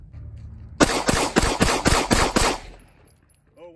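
Seven rapid gunshots fired at a bulletproof binder, sharp loud cracks in quick succession over about two seconds, close by, followed by quiet.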